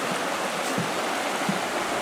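Water of the Little Carp River flowing steadily on a backpacking trail, a continuous broadband rush with faint low burbles, close and fairly loud with no voices.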